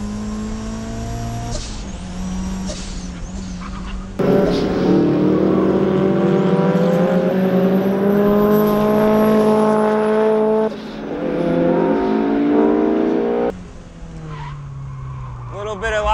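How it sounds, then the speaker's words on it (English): A turbocharged Mazda Miata without ABS or power steering accelerating hard out of corners on a race track: loud rising engine drone, shifting pitch between gears, with tire squeal and someone talking over it. "The turbo is very responsive. Pulls us right out of those corners."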